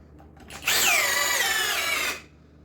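An Ingco cordless drill bores into hardwood, its motor whining loudly for about a second and a half under load before spinning down, alone and close.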